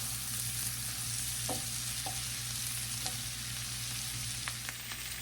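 Cabbage fries in butter in a pan, a steady dense sizzle running throughout with a few soft clicks and scrapes of stirring and a faint hum underneath.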